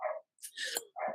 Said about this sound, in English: I'm so sorry about the dog.